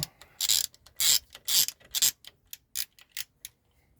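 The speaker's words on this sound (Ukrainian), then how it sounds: "Ставлю нашу бітку, трошечки підбиваю, щоб вона зайшла. І відкручую." A bolt on a 2001 Renault Laguna 1.9 diesel being unscrewed with a Vorel 66400 bit set: a rapid series of sharp ratcheting clicks in irregular bursts, close and crisp, thinning out and stopping toward the end, with no talk.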